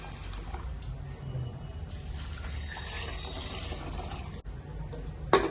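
Water is poured steadily into a pressure cooker holding soaked lentils for homemade haleem, a continuous close-up gush lasting several seconds that ends in a brief louder clatter.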